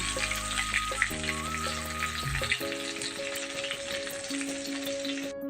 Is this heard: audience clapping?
no